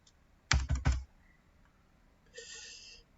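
Typing on a computer keyboard in Word: a quick cluster of three or four clicks, then a softer, briefer tap a moment later, close and isolated in a quiet room.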